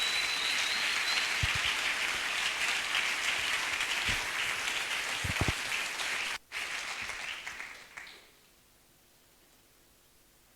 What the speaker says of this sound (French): On peut encore remettre nos deux mains ensemble pour acclamer le roi des rois.